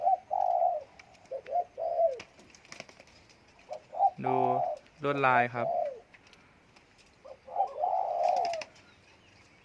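A zebra dove coos in short, soft rhythmic phrases, repeating several times, while someone talks nearby between and over the calls.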